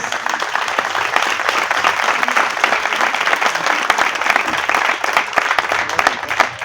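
Audience at a civic ceremony honoring the Generation of 1928 students applauds warmly and continuously, a dense, steady wash of clapping from many hands throughout.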